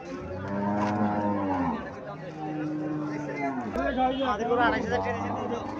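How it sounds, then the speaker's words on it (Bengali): Cattle low loudly at a busy cattle market in Chauara, Cumilla: two long, drawn-out moos sound close by, one after the other, with people talking in the background. "এই যে এখানে একটা গাভী দেখা যাচ্ছে"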